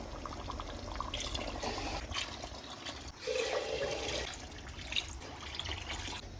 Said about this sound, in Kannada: ಒಂದು ಆರರಿಂದ ಆರೂವರೆ ಗ್ಲಾಸ್ ನೀರನ್ನು ಹಾಕೊಳ್ತೀನಿ